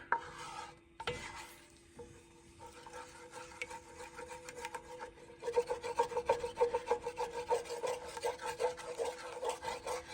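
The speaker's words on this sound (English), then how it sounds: "You just want to stir this so it does not burn." A spoon stirs melting peanut butter and butterscotch chips in a pot, making soft scraping strokes that start sparse and turn into a quick, steady rhythm of rubbing against the pan. The sound is close and fairly quiet, with no speech.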